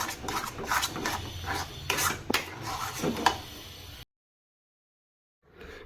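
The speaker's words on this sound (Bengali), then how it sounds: "এইভাবে অনবরত নাড়তে হবে নাহলে নিচে আবার দলা পেকে যেতে পারে" A spoon scrapes and rasps steadily against a pan as a sweet milk and powdered-sugar mixture is stirred without pause, a close, gritty sound that cuts off into silence before a faint return at the end.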